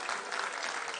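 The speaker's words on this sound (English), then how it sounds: "Y'all gave me the golf clap" Light, polite scattered clapping from a crowd at a university athletics event, a soft golf-clap patter that stays faint and even for about a second.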